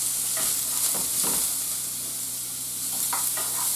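Onions sizzle in a little melted butter in a home cooking pan, a continuous hiss with occasional soft stirring scrapes, heard up close with no talking.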